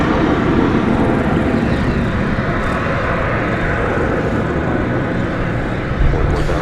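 An airplane at the DFW airport runway roars loudly and steadily, a broad, dense engine rumble sustained throughout without pause.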